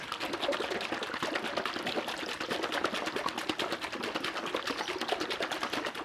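A lidded shaker bottle of olive oil and honey castile soap mixture is shaken hard, giving a fast, steady, rhythmic sloshing and rattling that continues evenly at close range without talk.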